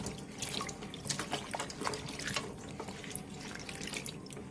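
Water pours steadily into a steamer pot holding meat, doenjang, bay leaves, instant coffee mix, soju and pepper, a close, continuous splashing gush with no voices.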